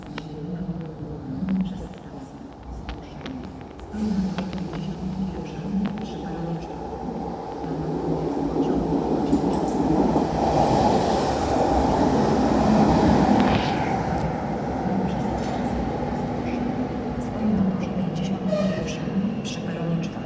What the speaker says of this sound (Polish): Pociąg Regio ze stacji Krzyż do stacji Kostrzyn.